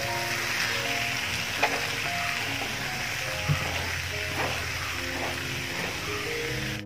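Chopped onions fry in a pan for an egg curry, giving a steady close crackle and sizzle throughout, with a couple of soft clicks of utensils and a faint hum in the background.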